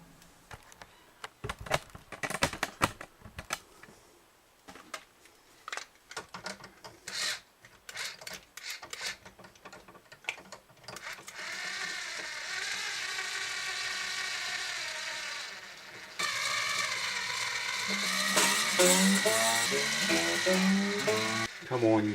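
Tuning pegs being turned on an Epiphone FT130 acoustic guitar, with scattered clicks and rubbing at first, then sustained rising string tones as the strings are brought up toward pitch, close and moderately loud.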